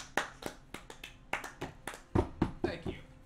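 A single person claps their hands at a tabletop role-playing game session, producing about ten sharp, separate claps in an uneven rhythm. The claps are close and moderately loud, with no talk over them.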